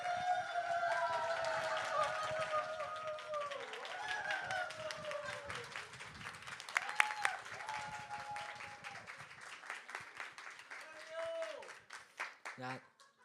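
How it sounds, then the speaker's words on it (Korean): Church congregation applauding and cheering at a Sunday service before a youth team's vision-trip presentation, a steady wash of clapping that fades out over several seconds with voices mixed in. "큰 박수와 환호성 같이 부탁드립니다."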